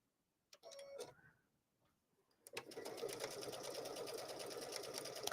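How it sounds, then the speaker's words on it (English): A sewing machine runs a straight stitch along lace, giving a short whir early on, then a steady, continuous mechanical hum and rapid ticking of the needle that carries on close and clear without any talk. "And now I'm switching back to a straight stitch."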